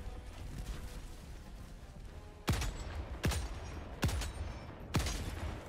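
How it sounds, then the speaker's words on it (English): Four evenly spaced, sharp gunshots in the video game Helldivers 2, each punching out over a steady background game rumble. "Four shots."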